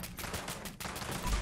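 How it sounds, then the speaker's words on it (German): Gunfire in the video game Fallout 76, a rapid burst of repeated shots in quick succession, loud and close, with no talk over it. "Wir schießen hier nochmal ein paar Befreier"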